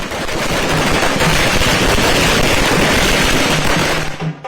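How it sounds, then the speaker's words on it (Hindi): Loud, dense crackling bursts of celebratory fireworks pop in rapid, continuous succession at a welcome for a politician in Bihar, India, close by and unbroken until they fade at the end. "ढोल नगाड़े के साथ जमकर आतिशबाजी"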